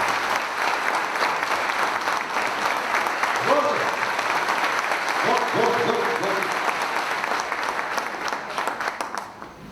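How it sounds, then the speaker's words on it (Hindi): A live audience at a show about housing society conveyance gives loud applause for Gopal Shetty. The clapping is continuous and dense, with a voice briefly cutting through it twice. "मैं चाहूंगा कि आप लोग बड़ी जोर से तालियां बजाएं गोपाल शेट्टी जी के लिए"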